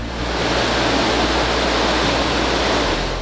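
Water rushes steadily and loudly at Sirunumi Dam on the Sogeri Plateau in Central Province, a dense, unbroken roar close up with no voices.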